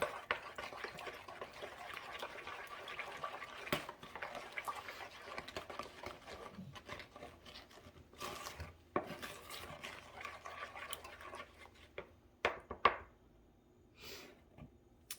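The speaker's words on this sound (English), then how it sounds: "now I'm going to use my spoon, and I'm going to mix this together really well" Mango pancake batter mixed with a spoon in a bowl, a quiet irregular run of wet stirring and scraping with occasional clinks against the bowl, close and alone.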